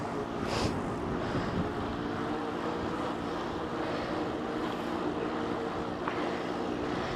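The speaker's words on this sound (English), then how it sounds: "Sounds like a broken exhaust." A motorcycle or similar vehicle engine with a broken exhaust rumbles steadily and loudly throughout, a broad rough drone with no talk over it.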